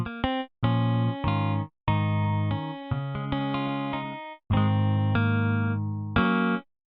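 A picked humbucker guitar preset from a MIDI plugin plays a run of bright, separated chord stabs and held chords in a choppy rhythm with brief silences between phrases, with no talking.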